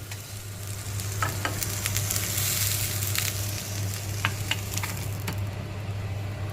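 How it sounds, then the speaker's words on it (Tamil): Ginger sizzles steadily in hot oil in a pan while tomato ginger chutney is cooked. A continuous close fry hiss runs throughout, broken by sharp crackles and light stirring clicks, with no talking. "கூட ஜிஞ்சரையும் நம்ம போட்டுக்கலாம். இது கொஞ்சம் நம்ம ஃப்ரை பண்ணிக்கலாம்."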